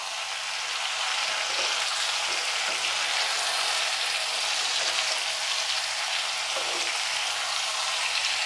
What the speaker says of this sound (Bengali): পোস্তটা দিয়ে এবার সব একসাথে একটু ভাজা ভাজা করে নিয়ে এর মাপে জলটা দিতে হবে।